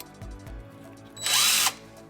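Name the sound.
DeWALT drill/impact driver running as a drill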